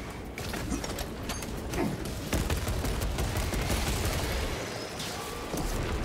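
Rapid, continuous gunfire from the Warhammer 40k: Space Marine 2 video game, with dense overlapping shots and bursts that stay loud and busy for several seconds and never clearly pause.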